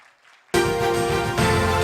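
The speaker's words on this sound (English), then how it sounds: "Please give a big applause." Right after a launch button is pressed at the Indonesia Energy Transition Mechanism country platform ceremony, a loud sustained tonal fanfare kicks in abruptly after near silence and swells midway, with no clear clapping audible.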